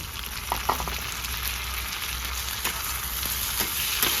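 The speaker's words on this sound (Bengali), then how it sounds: "পেঁয়াজ আর টমেটো একসঙ্গে ভেজে নেবো" Chopped onion and tomato fry together in a pan in a village kitchen, making a continuous crackling sizzle broken by a few sharp clicks of stirring.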